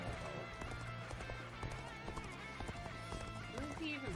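Horse hooves gallop in the video game Dynasty Warriors Origins, a steady rhythmic beat running the whole time under a busy mix of battle sounds and music, with a voice talking over it.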